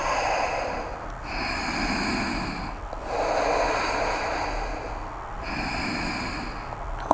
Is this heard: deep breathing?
yes